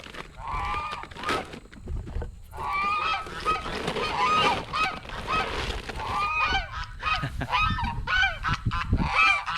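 Busy chickens calling close by, a flock of overlapping honking, clucking cries in steady bursts with no talking.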